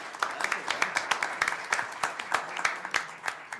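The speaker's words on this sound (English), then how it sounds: "give them a round of applause" Applause at a town council meeting: a small group claps in fairly sparse, distinct strikes, moderately near and unevenly paced, with some voices murmuring beneath.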